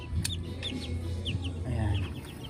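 Colorful chickens cluck and chirp in short, overlapping calls, fairly close, over a low background rumble.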